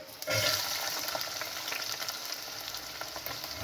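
Onions sizzle and crackle steadily in hot oil for an eggplant curry, close up and continuous, with a slight surge as they hit the pan.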